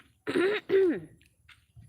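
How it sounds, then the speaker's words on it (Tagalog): Two short, rough coughs from a lingering illness in quick succession, close and fairly loud, followed by quiet. "Hindi pa magaling yung mga ubo-ubo namin guys."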